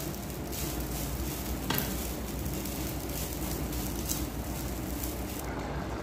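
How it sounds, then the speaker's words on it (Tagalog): Fish fries in a hot pan with a steady, dense sizzle and crackle that holds even throughout, close by and alone without talk. "At magpiprito din tayo ng isda."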